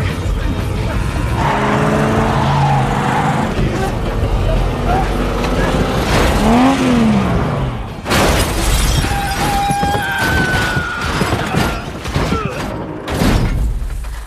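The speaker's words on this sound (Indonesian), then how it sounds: "Harold berhasil melawan dan menabrakkan mobil." A car crashes in a scene from the film Gringo 2: a roaring engine and rising whine build up, then an abrupt loud smash with shattering glass, followed by scattered clattering debris and continued engine noise.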